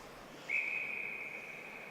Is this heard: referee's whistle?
yes